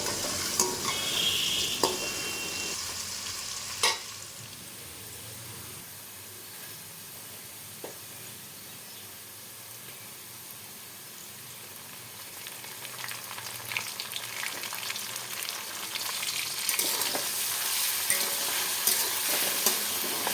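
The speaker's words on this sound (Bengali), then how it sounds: "আর এদিকে আলু ভাজা হয়েই গেল প্রায়, দেখুন।" Potatoes sizzle in hot oil in a pan for vegetarian ghugni, a steady hiss under frequent stirring scrapes and clinks, growing busier and louder toward the end with no talking.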